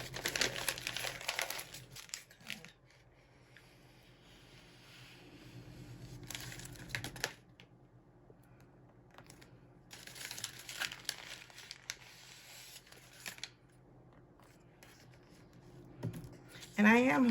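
Sheets of paper handled and crinkled during a glue-stick scrapbook modification, with bursts of close, crisp rustling near the start, middle and end and quieter handling in between.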